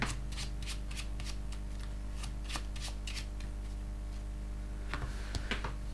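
Netrunner cards being shuffled by hand at a game table, a series of quick riffling flutters and taps in short bursts, close and quiet over a steady low hum, no speech.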